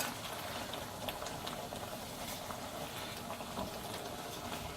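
Butter chicken sauce with cream, chopped cashews and fenugreek seeds simmers and thickens in a pan, giving a steady, faint bubbling hiss with soft pops and no talk.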